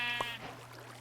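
A single short sheep bleat from a Minecraft game, loud and close, over a low steady game-world hum.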